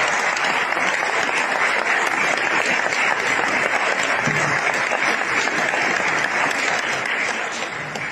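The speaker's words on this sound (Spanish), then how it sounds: "vamos a darle otro aplauso a los 4 panelistas que arrancaron esto" Sustained applause from the audience at a commemorative evening event honoring four panelists, a dense, steady roar of clapping hands lasting throughout, loud and continuous without talk.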